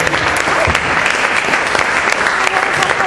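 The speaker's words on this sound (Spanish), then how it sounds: "Damos un fuerte aplauso, pastor." Loud, dense applause from a church congregation, sustained clapping close by for the whole stretch with no pause.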